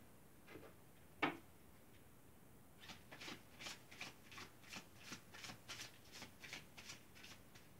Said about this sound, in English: as I shuffled the cards